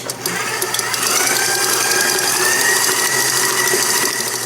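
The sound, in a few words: electric mixer mixing pineapple cheesecake batter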